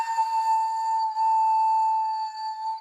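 A steady, high, pure wind flute whistle, like wind blowing across a small pipe, holds its pitch for a few seconds.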